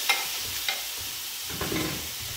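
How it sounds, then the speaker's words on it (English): Channa (chickpeas) go into a hot pot and set off a moderate sizzle, with a few sharp clinks and a louder burst of frying and stirring near the end. No voices are heard. "I'm going to start with adding the Channa to the pot."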